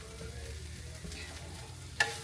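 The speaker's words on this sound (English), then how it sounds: "Make sure we get it all stirred up in there." Shrimp fried rice with egg stirred and sizzling in a hot pan, a steady quiet fry with soft scraping strokes and one sharp clink of a utensil near the end.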